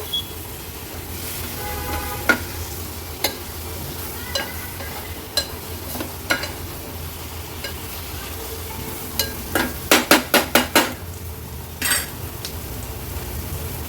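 Cleaned prawns sautéed in masala in a pan, a low continuous sizzle broken by spoon scrapes and knocks, ending in a quick burst of rapid metallic stirring clatter.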